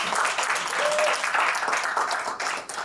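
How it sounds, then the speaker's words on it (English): An audience at a youth innovation event in South Africa gives a round of applause, a full, sustained clatter of many hands that stays fairly even before dipping briefly near the end. "So please give Shalane a big round of applause"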